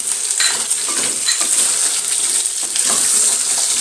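Onions and coriander stems fry in a pot for a Kenyan meal, giving a steady, close hiss with bursts of crackle and light stirring scrapes throughout.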